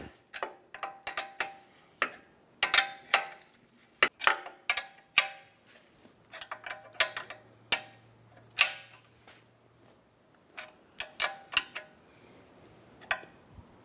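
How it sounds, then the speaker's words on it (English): Sharp metallic clicks and ratcheting taps come in irregular bursts as a ball joint nut is spun down and snugged on a control arm of a 2010-2016 Cadillac SRX, close and otherwise quiet. "I'm going to go ahead and spin down the ball joint nut."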